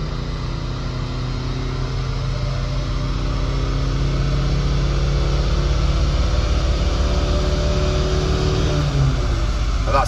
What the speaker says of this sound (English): And that's the dyno pull done.